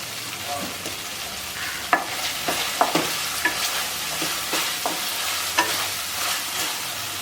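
Prawns frying in a pan, a close sizzle broken by frequent scraping spatula strokes as they are stirred, moderately loud with no talking.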